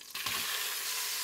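Pork belly sears in an Instant Pot with a steady, close sizzle and hiss that starts after a brief soft knock and holds evenly to the end.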